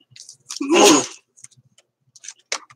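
A single sharp sneeze bursts out near the start, followed by quiet shuffling and small faint noises.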